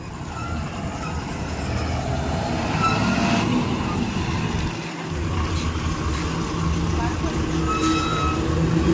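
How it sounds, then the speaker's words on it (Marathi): A passenger travel bus from Om Sai travels pulls in at a roadside stop on the Ratnagiri to Mumbai route, its steady engine rumble and road noise continuous and fairly loud, with voices talking over it. "आत्ता गाडी आली ओम साई"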